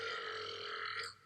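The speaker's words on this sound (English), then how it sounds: "after a loud belch and a little assist, he plays one heck of a lick" Peter Griffin, the cartoon character from Family Guy, lets out a single long, loud, drawn-out belch that rasps steadily for about a second before cutting off, heard alone without talk.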